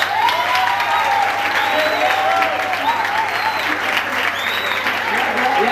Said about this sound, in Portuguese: Palmas pra amarela.